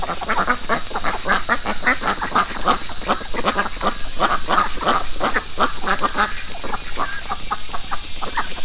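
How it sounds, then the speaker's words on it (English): A flock of ducks being herded through a Chinese village quacks loudly and continuously, a dense rapid stream of overlapping calls close by. "you see the ducks getting herded to wherever they get herded to"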